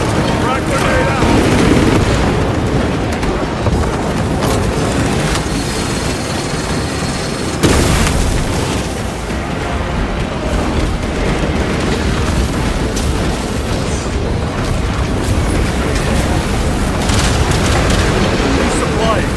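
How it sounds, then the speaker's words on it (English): A frag grenade blast in the Warhammer 40,000: Space Marine 2 video game, one loud boom lost in nearly constant battle noise of gunfire and explosions, with voices talking over it. "Frag grenade out."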